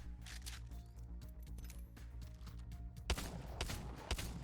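EVA-8 shotgun firing in Apex Legends with a purple bolt attachment, a rapid series of fairly faint, evenly spaced blasts over game background noise, with no talk.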